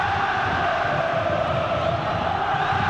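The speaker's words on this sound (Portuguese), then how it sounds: "E o delírio da torcida vascaína" Vasco supporters roaring in a packed football stadium, a dense, steady wall of crowd cheering and shouting that stays loud and constant throughout.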